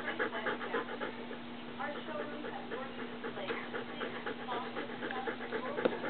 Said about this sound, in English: Say hi, doggy.